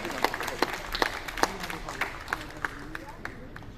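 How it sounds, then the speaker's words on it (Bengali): An audience at a memorial tribute gathering for a jatra stage actor claps in uneven, sharp bursts, moderately close, while a voice speaks faintly underneath. "জোরে হাততালি"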